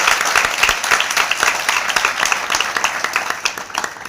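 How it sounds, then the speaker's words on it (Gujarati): A school audience at a girls' education and school admission festival claps loudly and continuously, a dense close burst of many hands with no talk over it. "એના માટે જોરથી તાળીથી વધારવી"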